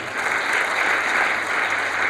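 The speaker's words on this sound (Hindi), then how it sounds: "इनके लिए भी एक बार पूरी जिम्मेदारी के साथ चाहूँगा कि आप लोग तालियां बजाएं।" An audience applauds BSF officers at a camp in Kishanganj, Bihar, a steady, dense wash of clapping from many hands held at an even level throughout.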